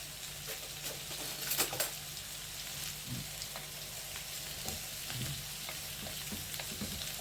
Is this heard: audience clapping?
no